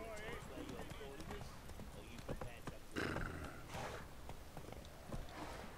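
Roach, the horse in The Witcher 3, gallops with rhythmic clip-clop hooves and occasional snorts, mixed with game ambience and someone talking over it.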